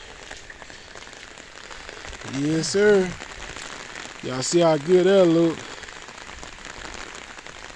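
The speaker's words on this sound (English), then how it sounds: "So let's let the rain rinse that down." Rain falls steadily on a freshly washed 1964 Impala SS, a constant fine patter on the car. Someone speaks briefly over it in two short bursts.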